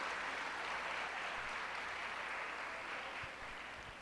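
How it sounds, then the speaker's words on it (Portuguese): A church congregation applauds, a soft, distant wash of clapping that holds steady and then tapers off near the end. "Aplauda ao Senhor."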